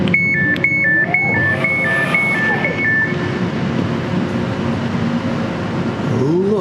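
Steady low rumble and hum inside a moving modern London commuter train carriage, with a repeating two-tone electronic chime near the start that fades out.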